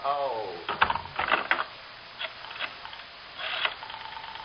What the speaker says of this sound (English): Oh, Mr. Crystal, can I call L.A. on this phone here?